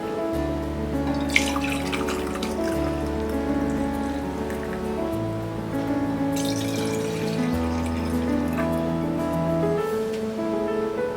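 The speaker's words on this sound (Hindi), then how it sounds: "जिस कंटेनर में हमें दही को सेट करना है हम इसे स्टैंड पे रखेंगे और ये मिल्क इसमें पोर करेंगे।" Milk is poured into a container set on a stand for setting curd, giving a continuous soft liquid splashing that runs steadily under background music.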